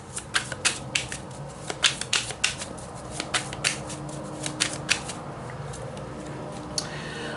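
A deck of oracle cards being shuffled by hand, a run of crisp riffling snaps and flutters in close bursts that ease off toward the end, with no talk.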